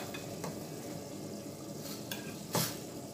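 Okra is stirred into tomato sauce in a pot, with a soft, low simmering bubble and a few faint scrapes and clinks of the spoon against the pot. No one speaks.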